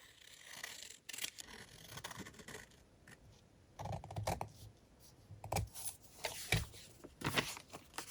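Paper being cut with scissors while making a junk journal folio, giving a series of short crisp snips and scrapes close by, with quiet pauses between strokes and no talking.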